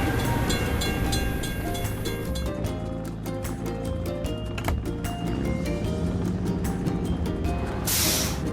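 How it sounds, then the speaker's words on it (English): A video game train rumbles past a closed crossing gate with rhythmic clacking and a low steady roar, a short hissing burst near the end. "We have to wait for the train to pass."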